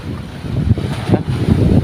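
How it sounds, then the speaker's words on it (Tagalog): Strong gusting wind on the sea shore roars against the microphone in a steady low rumble, rising in bursts, with no voices. "Lumakas lalo ang hangin."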